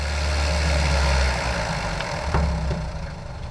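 A light aircraft engine runs up to 2,000 RPM with a steady, loud drone that briefly stutters and pops as it misfires.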